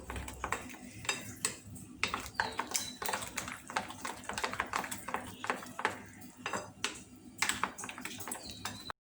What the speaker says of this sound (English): I have beaten the mixture well for 2 to 3 minutes